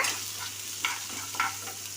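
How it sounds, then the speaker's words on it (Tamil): Onions sautéing in hot oil with mustard seeds, green chillies and curry leaves for cabbage poriyal, a steady close sizzle broken by a few louder stirring scrapes, with no talking. "வெங்காயத்தை சேர்த்துக்கலாம். நல்லா வதக்கிக்கோங்க."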